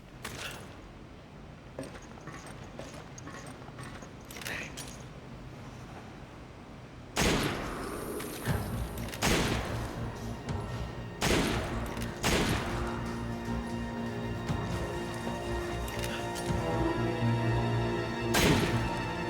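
Gunfire from armed zombie enemies in Resident Evil 5 sounds as a series of sharp, loud shots and bursts spread across the stretch. The shots grow denser and louder in the second half over a steady game background.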